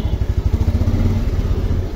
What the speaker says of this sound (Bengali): মারাত্মক লেভেলের বাইক ড্রাইভ করতেছেন